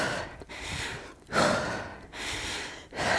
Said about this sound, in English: Oh, I'm out of breath.